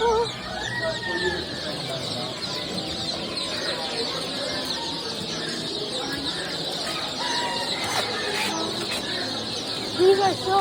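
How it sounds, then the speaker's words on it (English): Chickens and young ducklings at an animal auction cluck and peep in a dense, steady chorus, with a rooster-like call among them and people talking faintly in the busy background. "Look at these little ducklings."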